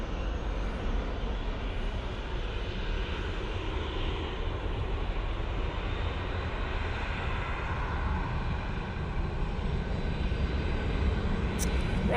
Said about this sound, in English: Get on, Ryanair. Get up in the air.